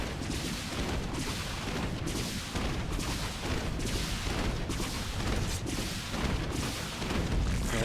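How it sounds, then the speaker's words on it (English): Terran Banshees firing on a Zerg hatchery in StarCraft 2, a dense, steady barrage of weapon impacts pulsing in regular bursts under continuous loud battle noise. "The Banshees will fire. And the hatchery takes a bit more damage."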